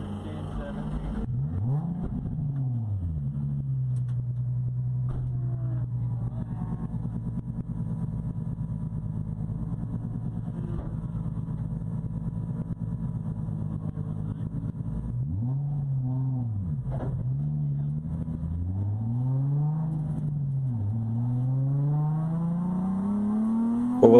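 A race car engine at Mid-Ohio idles, then revs up and down in rising and falling sweeps, steady and fairly close, with some faint background chatter.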